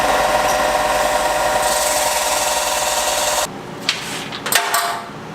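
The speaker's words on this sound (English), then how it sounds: "grind the tungsten with the belt so it pulls, like the marks are towards the end, towards the tip" A tungsten electrode is ground on a belt grinder, a steady abrasive rub and whir lasting about three and a half seconds, then stopping abruptly and leaving a few faint clicks and light handling noises.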